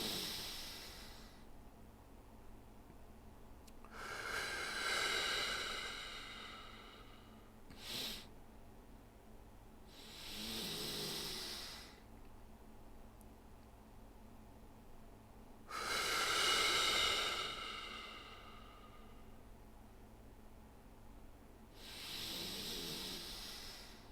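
A breathing practice app plays slow, guided breathing, with long airy inhales and exhales spaced several seconds apart, steady and soft, and no talking.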